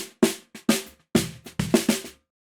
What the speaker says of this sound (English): This is the sound of a snare drum through the bottom microphone only.